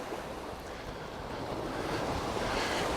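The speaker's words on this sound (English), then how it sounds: "Even though it is a little bit choppy, the sea is crystal clear." Choppy sea waves in Santa Ponsa bay, a continuous rushing wash of surf mixed with wind buffeting the microphone, steady and slightly building, with no voices.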